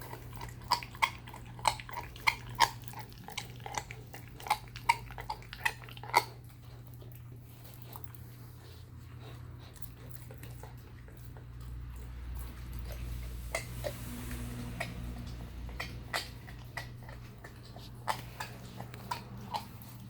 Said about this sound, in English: it will probably take her a good half hour or so to actually chew through both of these chicken wings